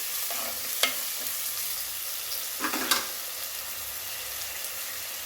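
Tomatoes with turmeric sauté in a pan with a bright continuous sizzle, broken by a couple of sharp spatula scrapes and taps, no talking.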